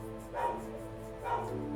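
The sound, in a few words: dogs barking in the background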